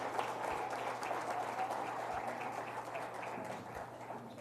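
Church congregation applauding through a steady wash of clapping that fills the whole stretch at moderate level, with a faint low hum beneath and no talk over it.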